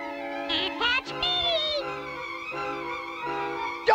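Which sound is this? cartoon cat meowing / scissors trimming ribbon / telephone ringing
cartoon cat meowing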